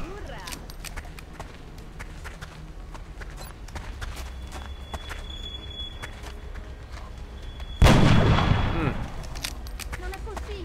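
A single loud, sharp sniper rifle shot in the XCOM video game cracks out near the end and decays in a brief rumbling tail over a steady low game background.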